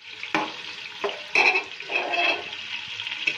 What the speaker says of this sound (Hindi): अब मैं इसमें घी डालूंगी, फिर प्याज डालूंगी, उनको फिर हल्का सा फ्राई करके